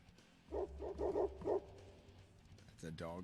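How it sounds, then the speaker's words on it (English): A dog, Hank, from a rubber ball advertisement barks in a quick series of about five sharp, fairly loud barks near the start, followed by a brief rising whine or voice-like sound at the end. "That's a dog named Hank."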